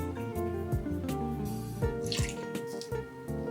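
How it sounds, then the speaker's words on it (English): Soup stock being poured into a blender over vegetables, liquid splashing and dripping in short uneven bursts, close and fairly quiet, with no voices. "Then add the soup stock."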